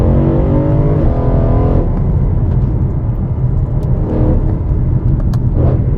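A BMW E92 M3 fitted with an Eventuri carbon plenum and upgraded exhaust roars close and loud, its revving engine rising and falling in steady sweeps with a deep rumbling exhaust note throughout.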